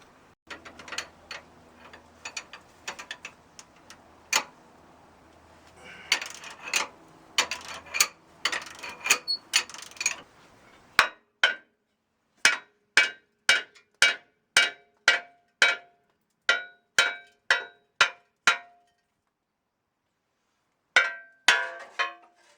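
A ratchet wrench clicks in quick repeated bursts while a cross member is unbolted from a Land Rover Discovery 1 during gearbox removal, with metallic clanks and steady ratcheting strokes close by.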